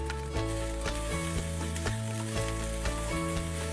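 Kolkata-style egg fried rice sizzles in the pan during its final mix, a steady frying hiss beneath rhythmic background music.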